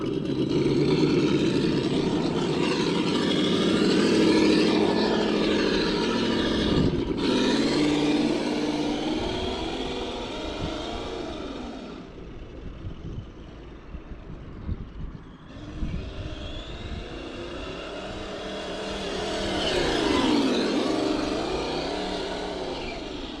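Simulated engine sound from a sound module fitted to an MFP Interceptor RC car running on 2S, a loud continuous motor drone that swells and dips with throttle over about twenty seconds, with no talk.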